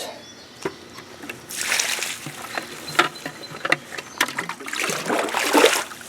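Water sloshes and splashes in bursts, with trickling and dribbling between, close by as muddy yellowroot roots are rinsed and swirled in a container.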